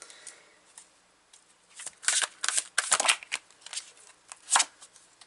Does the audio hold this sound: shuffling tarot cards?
yes